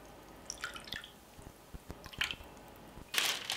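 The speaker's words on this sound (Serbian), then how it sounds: "Sipat ću i 50 ml vode" Water is poured over marinated meat in a bowl, producing faint, scattered drips and wet squishing splashes that end in a brief louder splash, with no speech.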